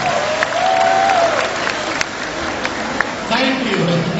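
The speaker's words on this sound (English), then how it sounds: "A round of applause for them." Commencement audience applauds in a large venue at a university graduation ceremony, with steady dense clapping throughout and a voice speaking over it.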